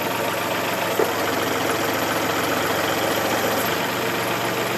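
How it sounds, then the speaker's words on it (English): A Kubota tractor engine idles steadily with its loader hydraulics set higher, a constant close diesel rumble with a fine mechanical clatter and no revving, alone without talk. "This is at idle. I'm not even going to rev it up."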